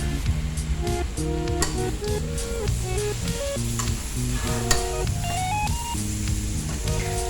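Chilies and vegetables stir-fried with curry paste in a pan for a spicy stir-fried bird dish crackle in a lively sizzle, with stirring strokes and a melodic tonal backing running beneath.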